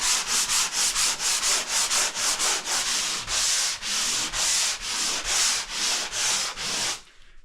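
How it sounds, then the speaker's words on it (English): Steady back-and-forth sanding of drywall with a hand block, rhythmic rasping strokes repeating for several seconds, close and fairly loud, then stopping. "the only thing I'm going to do is hit it with a little sanding block."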